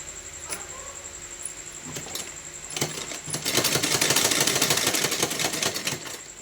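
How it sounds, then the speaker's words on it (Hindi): A sewing machine stitches a Laddu Gopal dress, starting with a few soft clicks and then running in a fast, steady mechanical rattle that is close and fairly loud, with no talking. "इसी तरह हम आराम से सिलाई लगा लेते हैं।"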